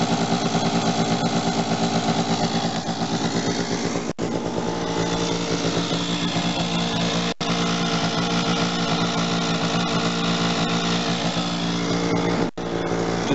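A 1997 Suzuki AP50 scooter engine running steadily after a kickstart, a close, loud, buzzy two-stroke drone holding an even pace with slight rises in pitch, without talk.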